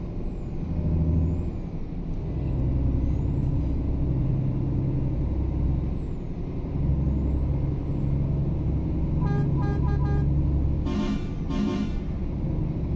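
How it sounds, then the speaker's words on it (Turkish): A Scania NG S410 truck horn in Euro Truck Simulator 2 sounds in a few short blasts late on, over a steady, loud engine drone with brief air-brake hisses. "Kornalarımız da bu şekilde."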